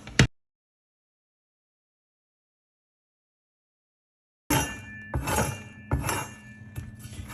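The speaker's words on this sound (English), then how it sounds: "All you have to do now is scoop it into your second metal bowl." Toasted homemade granola scooped into a metal bowl: a single brief clink, a long silence, then a run of bright metallic scrapes and clinks with a few sharp hits close by.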